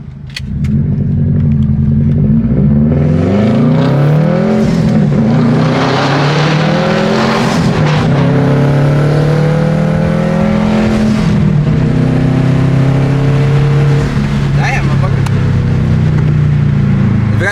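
A straight-piped Subaru STI accelerating hard, loud raw exhaust roaring as revs climb through several rising sweeps with gear changes, close and continuous throughout.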